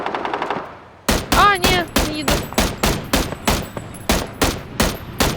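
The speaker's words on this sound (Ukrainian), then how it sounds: "не туди нам стріляють по нас" Automatic and rifle gunfire in PUBG on the Erangel map, a burst of rapid shots followed by a run of loud, evenly spaced single cracks, close and sharp, with no talk over them.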